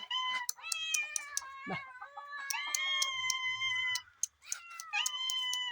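Several cats meow loudly and repeatedly, overlapping one another in a persistent chorus, with a brief squawk from a hen partway through.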